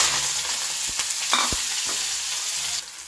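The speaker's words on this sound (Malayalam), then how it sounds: "കുറച്ച് കടുക് ഇട്ട് കൊടുക്കാം കടുക് പൊട്ടട്ടെ" Hot oil crackles and sizzles steadily as mustard seeds splutter, with scattered sharp pops and a few stirring knocks against the pan, no voices.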